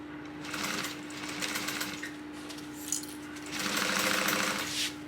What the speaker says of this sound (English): Now we're gonna stitch down this side.